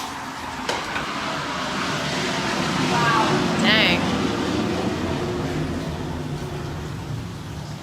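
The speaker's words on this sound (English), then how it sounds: "And here we go with the jet airplanes again." A low, broad roar of jet engines swells overhead and slowly fades, with a brief exclamation spoken over the rumble.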